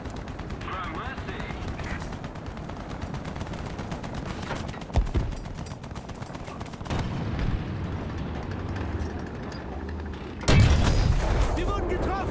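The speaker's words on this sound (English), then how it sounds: "I can hear the Puma shooting him." Gunfire from a Puma armored car in the video game War Thunder, rapid cannon shots in repeated bursts amid battle noise and a loud impact near the end, with voices talking over it.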